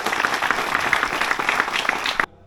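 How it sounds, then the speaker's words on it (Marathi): Audience applause at a school Republic Day celebration: dense, continuous clapping from a crowd, loud and steady, ending abruptly. "सर्वांनी एकदा जोरदार टाळ्या वाजवायच्या आहेत"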